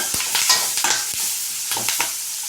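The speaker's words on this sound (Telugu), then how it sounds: "పసుపు కొంచెం ఇప్పుడు కలుపుకోవాలి కలుపుకున్నాక వేగనిద్దాం దీన్ని బాగా ఎర్రగా ఎర్రగా వరకు" Capsicum sizzling in a pan with a pinch of turmeric and salt, a spatula scraping and stirring in repeated sharp strokes over a steady frying hiss, close and fairly loud, with no talking.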